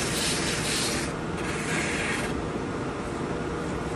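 A drum sander smooths wooden log parts with a loud, continuous abrasive rasp whose grit texture shifts slightly in tone partway through, close and alone without talk.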